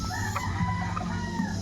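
A chabo bantam rooster crows close by, a drawn-out call over a steady background hum with other fowl clucking faintly nearby.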